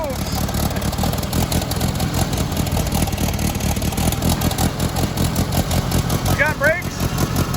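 An abandoned White 2-44 forklift runs with a steady, rough mid-pitched engine drone while it moves, continuous and close throughout, with occasional squeaks near the end.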